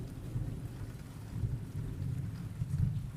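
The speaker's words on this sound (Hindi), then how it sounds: "दूर से बिजली की कड़क सुनाई दे रही थी।" Steady rain falls through a thunderstorm while a low, distant rumble of thunder rolls continuously underneath, with no voices present.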